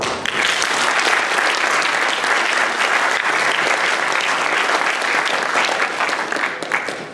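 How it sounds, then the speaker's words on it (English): Conference audience at PyCon PL 2015 applauds a speaker being introduced, with loud, sustained clapping that holds steady before tapering at the end. "So give him a big applause."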